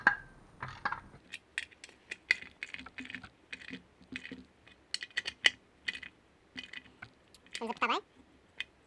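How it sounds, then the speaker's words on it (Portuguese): Metal clicks, ratcheting and clinks of tools come up close as nuts are tightened on a car's catalytic converter, arriving in short irregular bursts with quiet gaps and one brief rattling run near the end. "Vamos colocar as porcas também. E agora podemos apertar."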